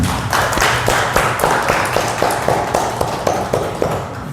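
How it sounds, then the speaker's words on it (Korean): A gathered congregation at a Buddhist dharma talk claps in unison, a steady rhythmic beat of many hands roughly twice a second, loud and continuous with no talk. "우리 나 자신들에게 다 박수 한번 치고 마칩시다."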